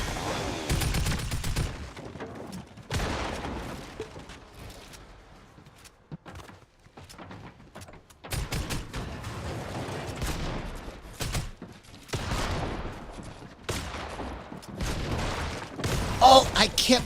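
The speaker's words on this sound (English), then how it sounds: "I kept missing the shotgun shot somehow" Repeated shotgun blasts from a video game, bursts of sharp reports clustered at the start and again in the middle and end, loud and close amid other gameplay noise.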